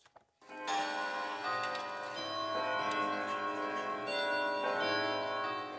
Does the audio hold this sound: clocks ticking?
yes